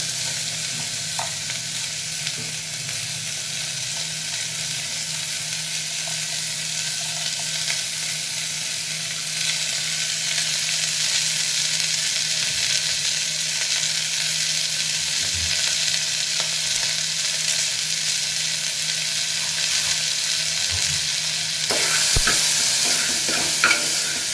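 Onions with turmeric, mustard seeds and cumin fry for a restaurant-style curry to serve with puri, a loud continuous sizzle heard close up, with occasional stirring scrapes and no voices.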